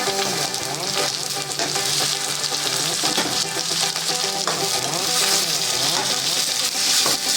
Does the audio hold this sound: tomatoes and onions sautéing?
yes